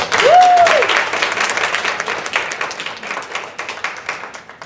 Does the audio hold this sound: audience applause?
yes